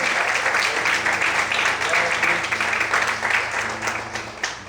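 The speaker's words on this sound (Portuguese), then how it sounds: "Você pode aplaudir o Senhor?" A church congregation applauds during a Portuguese-language worship service, a dense, steady wash of clapping lasting throughout, with low musical tones sustained underneath.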